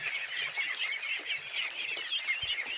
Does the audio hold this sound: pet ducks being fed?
yes